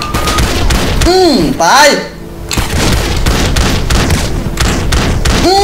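Rapid police gunfire and heavy impacts burst through a GTA San Andreas chase, loud and close. A siren-like wailing sweeps over the shots, and someone speaks briefly in Thai.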